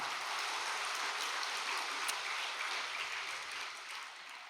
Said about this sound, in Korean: 박수 한번 보내드리겠습니다